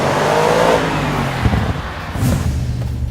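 An Audi RS7 engine accelerates hard, a loud, steady low roar that swells and shifts pitch as it revs, with no talking over it.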